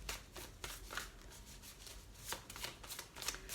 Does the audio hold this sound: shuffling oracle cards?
yes